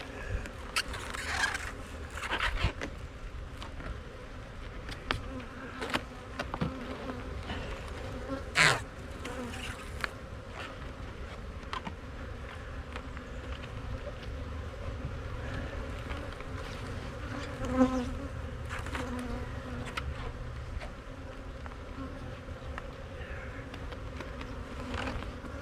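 Bees inside a wooden box with a fully screened bottom set up a steady, close insect buzz that runs the whole time, with scattered scrapes and knocks from handling on top.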